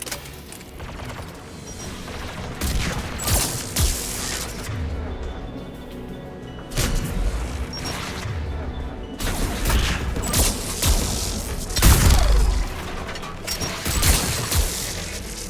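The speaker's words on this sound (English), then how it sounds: "AA guns ahead of us." Anti-aircraft guns firing in the video game Mass Effect 3, repeated heavy bursts of rapid gunfire and booming blasts with mechanical clatter, loud and close, arriving in uneven volleys over rumbling battle noise.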